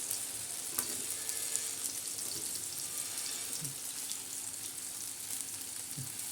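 Wheat flour dhirde frying on a pan with oil poured around the edges, giving a steady close hiss and sizzle throughout with a few soft clicks and scrapes.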